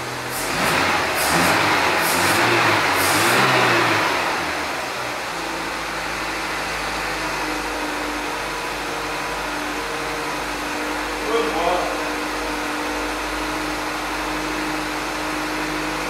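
A Renault Kangoo's freshly installed engine idles in a workshop with a steady, droning hum, loud rushing air noise at first, then a smooth, even idle with a faint clatter partway through.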